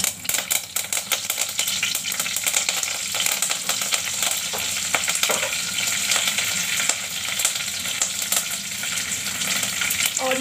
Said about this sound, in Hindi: उसके बाद में मैं इसमें डाल दूंगी कुछ कड़ी पत्ते